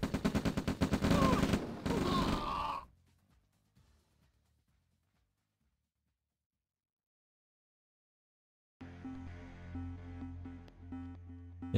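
Dense bursts of rapid gunfire in the OpenRA strategy game, loud and close at first, then a long near-silent gap before game sounds return with a lower rumble and tones.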